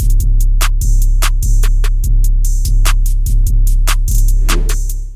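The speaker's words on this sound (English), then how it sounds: "And now the 808 sounds like this." An 808 bass pattern plays beneath a soul sample pitched up five semitones, with steady deep bass pulses and crisp, regularly spaced percussive hits in a loud, tight loop.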